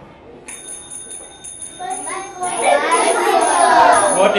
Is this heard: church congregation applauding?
no